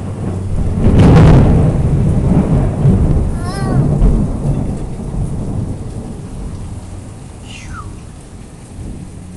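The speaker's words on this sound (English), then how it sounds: "Here comes the rain again." Heavy rain pours steadily through a thunderstorm in Logan, West Virginia, during severe weather and flooding, with a loud rumble of thunder early on and a voice speaking briefly over the downpour.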